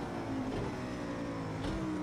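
An Audi R8 road car engine hums steadily while accelerating at Bathurst in the Project CARS 2 racing game, with a continuous mid-level drone and a slight rise in pitch near the end.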